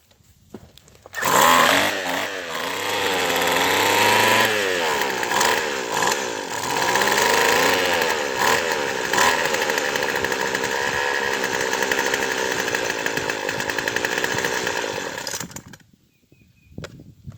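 A Craftsman string trimmer's small two-stroke engine runs loudly and close for about fourteen seconds during carburetor tuning, rising and dropping in pitch as the low-side needle is adjusted, then cuts off.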